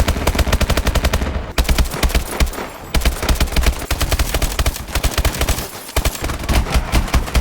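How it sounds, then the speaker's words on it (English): Continuous rapid automatic gunfire from Call of Duty: Advanced Warfare, loud and close, in dense repeated bursts with only brief gaps, no speech. "My biggest issue with these guns is that they sound very weak and pathetic."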